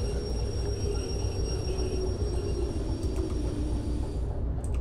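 Train braking in the Derail Valley railway simulator: a steady, loud low rumble of rolling stock with a faint high whine and occasional metallic ticks, continuous and unbroken.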